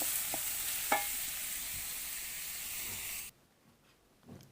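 Spiny gourd sizzles and hisses steadily in a hot pan over a clay stove, with a few soft stirring scrapes, then the frying noise abruptly drops away to near quiet.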